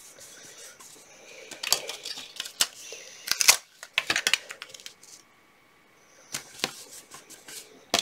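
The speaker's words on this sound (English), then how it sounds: "I'm just taping it all around to keep it in place" Masking tape pulled and pressed around a craft stencil to hold it in place, giving a run of sharp ripping and tapping bursts with short pauses between strips and a brief quiet stretch midway.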